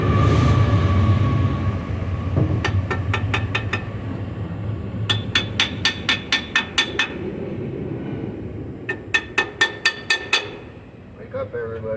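A hammer striking metal parts of a 1953 Buick Special in rapid bursts of sharp, ringing clinks, each group of five to eight quick taps separated by pauses, close and loud over a low background hum.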